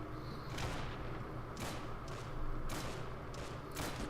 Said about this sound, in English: The grenade warfare has begun